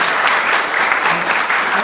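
Steady, dense applause from an audience at a book launch party at the Italian Cultural Institute, greeting Kathy Childers; loud and continuous throughout with no pauses.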